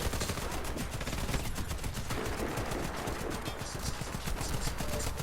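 Rapid automatic gunfire in the shooter game Warface, a fast rattling burst of shots running almost without pause, fairly faint overall.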